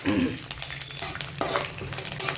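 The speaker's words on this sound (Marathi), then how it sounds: "आता याच्यात आपण टाकू कढीपत्ता" Curry leaves hit hot oil with roasting peanuts in a pan, giving a quiet crackling sizzle with sharp pops and some stirring scrapes, heard close and alone.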